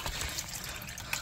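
Transmission fluid drains from the pan of a 2006 Ford Freestyle CVT automatic as a faint, steady trickle of liquid, heard alone with no talking.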